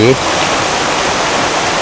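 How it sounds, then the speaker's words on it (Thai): A hill stream flows behind a café at Ban Pang Hai in Doi Saket, Chiang Mai. The water gives a loud, steady, close rushing hiss with no breaks, after a brief voice-like sound at the very start. "ให้คุณผู้ชมได้ซึมซับได้สัมผัสกับเสียง ธรรมชาติจริงๆนะครับ เสียงน้ำไหล"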